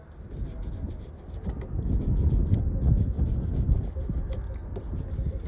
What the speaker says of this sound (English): Just take your wire brush, just go over it one last time, nothing major.